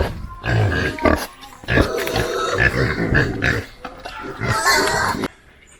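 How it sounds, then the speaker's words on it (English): Pig grunting loudly and close by, a run of rough grunts and snorts through most of the moment before it drops off, at a mountain cookout where Jamaican soursop juice and mannish water are being made. "Pig is going to get this."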